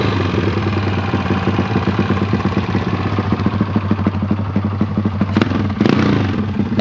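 An old drag racing motorcycle engine runs at New Year, a loud, close, rough idle with a steady rhythmic chug and metallic clatter, and two short sharp revs or bangs near the end.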